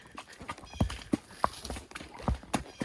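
A horse's hooves clip-clop on a rocky trail at Mammoth Cave, the close, uneven strikes landing one after another as the horse picks its way over the stones.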